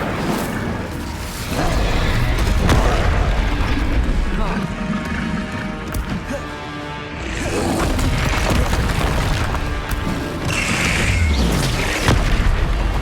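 Confringo spell blasts in the Hogwarts Legacy video game, booming explosions repeating amid layered combat effects, spell-casting cries and music, with a voice speaking over the action.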